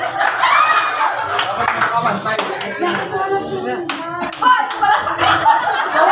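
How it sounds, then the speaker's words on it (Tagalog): An audience claps at a church Christmas party game, producing bursts of loose, uneven hand clapping mixed with chuckles and laughter while people talk over it. "Basta pumalakpak na kayo ng pumalakpak."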